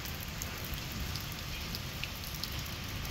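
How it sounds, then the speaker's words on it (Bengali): Steady rain falling on an overcast day in Krabi, Thailand, a dense continuous hiss of drops close by with faint scattered pattering on surfaces, no voices. "বৃষ্টি হচ্ছে"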